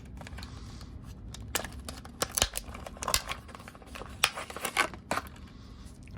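Shop shears snipping through tight plastic packaging around a pair of groove joint pliers, a string of sharp, crisp cuts and crinkles at close range in an otherwise quiet room.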